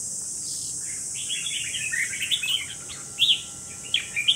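A red-whiskered bulbul sings close up, bursts of bright chirping notes growing busier and louder toward the end over a steady insect-like hiss.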